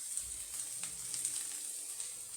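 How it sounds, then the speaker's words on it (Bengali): Potatoes fry in a pan with a steady, soft sizzle and faint crackle running throughout, with a few light stirring clicks and no talking. "এই আলুটা একদম ভাজা ভাজা করে ভাজতে হয়"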